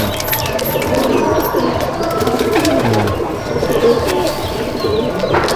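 Pigeons in a racing loft coo repeatedly in soft, throaty bursts, close by, mixed with light chirps and rustling and no clear speech.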